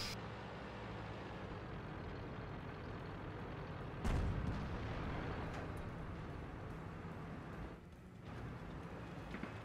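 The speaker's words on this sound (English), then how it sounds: "artillery tried to kill me, and fortunately he missed" An artillery shell landing near a tank in the video game World of Tanks: a single dull, booming impact cuts through a quiet, steady rumble of engine and ambience, then fades back.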